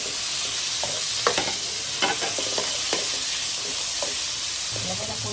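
Potato and bay leaf sizzle steadily in hot oil while a utensil scrapes and stirs through the pan in scattered clicks and scrapes.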